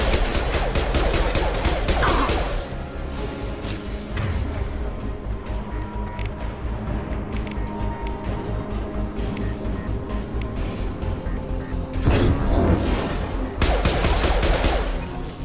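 Sustained bursts of gunfire in the Mass Effect 2 Legendary Edition shooter: heavy rapid shots at the start and again near the end, with steady weapon noise between them. No one talks.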